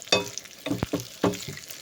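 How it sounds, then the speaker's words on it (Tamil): Chopped onions, chilies and curry leaves tempered in hot oil in a pan, with stirring and sizzling bursts coming in uneven rhythmic surges, close and fairly loud. "நம்ம எடுத்து வச்சுருக்கிற வெங்காயம், மிளகாய், கருவேப்பிலை எல்லாம் போட்டு இதில் தாளிச்சுக்கலாம்"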